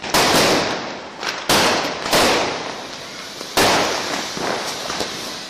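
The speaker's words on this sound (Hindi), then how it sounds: "कौन है बे जो पड़ाका छुड़ा रहा है?" Firecrackers go off in a village after Diwali in loud, crackling bursts, with several sharp, dense volleys of rapid pops following one another, close and harsh with no talking.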